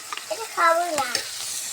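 Mixed spices frying with a splash of water in a pan, a close steady sizzle with stirring scrapes and a brief hissing burst, no voices.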